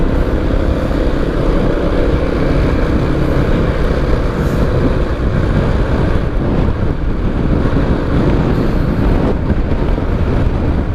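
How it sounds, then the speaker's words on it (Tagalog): Heavy, steady wind roars and buffets the microphone on a moving motorcycle, a constant loud rumble with no pauses and no voices. "Sa lakas ng hangin"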